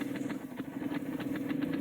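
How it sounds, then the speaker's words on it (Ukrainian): The tractor in Farming Simulator 17, fitted with a ZIL motor and prone to stalling, runs as a low engine with a rapid, steady chugging pulse at moderate loudness, with no talking. "Треба газувати завжди. Бо він так, бачите, глохне."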